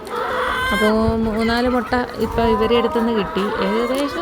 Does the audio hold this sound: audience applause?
no